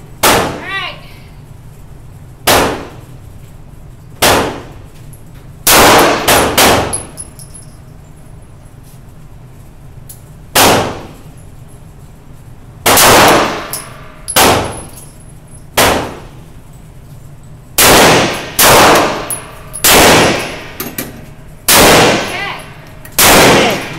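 Repeated sharp gunshots with metallic ringing from steel targets at a shooting range, fired in irregular bursts of single and doubled shots, loud and close, separated by quieter pauses.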